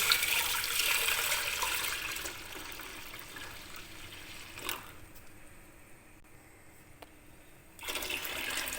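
Milk pours steadily into an open pot with a continuous watery rush, a brief pause in the middle, then the flow resumes.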